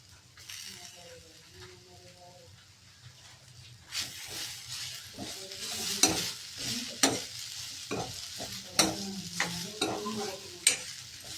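Grated coconut stirred and roasted in a pan for alasande sambar, giving a steady sizzle under repeated scraping strokes that come louder and sharper in the second half, with no talk.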